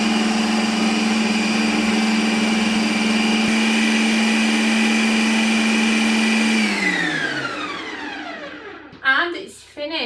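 A Ninja Creami respins a frozen strawberry and banana smoothie bowl, a steady loud motor whine with a sharp blade tone that runs for about seven seconds, then winds down in a falling sweep and stops, followed by a brief clatter.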